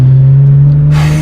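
A modified Hyundai Genesis Coupe 3.8 R-Spec engine drones loudly at a steady idle, then brightens into a brief rev near the end.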